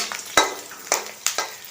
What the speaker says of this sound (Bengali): আর পাঁপড় ভেজে দেবো